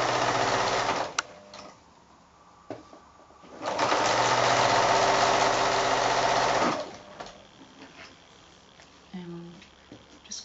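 A domestic sewing machine stitches a quarter-inch quilting seam on cotton patchwork in bursts of rapid mechanical whirring. One short run comes first, then a longer steady stretch, with quiet handling noises in between.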